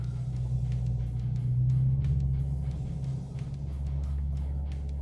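A 2025 Subaru WRX TS taking a left turn, heard as a steady low engine and road rumble from inside the car that swells slightly mid-turn and then settles.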